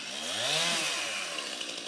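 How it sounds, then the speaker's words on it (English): A chainsaw cuts up fallen trees at an outdoor gathering, its engine loud and close, rising and falling in pitch as it works through wood in one continuous run. "Look at this guy, Ken Osborne, going nuts with this chainsaw, cleaning up the trees that the aliens knocked down"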